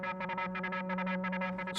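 Synthesized music sound drenched in reverb with distortion and a sweeping filter, a steady droning tone under pulsing, chopped harmonic bursts that repeat in a rhythmic pattern, loud and continuous with no voices.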